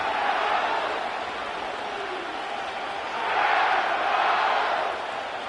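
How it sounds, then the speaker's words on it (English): Stadium crowd in Madden NFL at SoFi Stadium in Inglewood, a steady dense roar of cheering fans that swells louder midway, with no talk. "The crowd is definitely ready."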